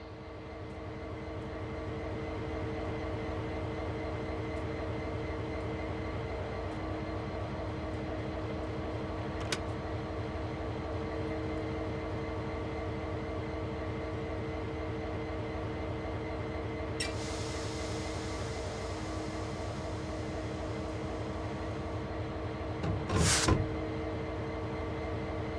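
Locomotive in Train Sim World 2 on the Sand Patch Grade creeping slowly onto a turntable: a steady diesel engine drone with a low rumble and faint metallic squeals, then a short clank near the end.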